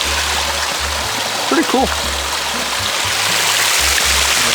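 Steady broadband rush of a stream flowing beneath a boardwalk and out into a clearing at the Sara Lee Arnovitz Nature Preserve, continuous and fairly loud, with someone briefly speaking over it.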